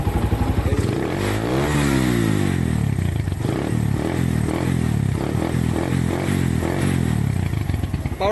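A Suzuki Thunder 125 motorcycle fitted with a power pipe exhaust, its torn diaphragm repaired, revs hard and loud close by, the engine note rising and falling through repeated throttle blips.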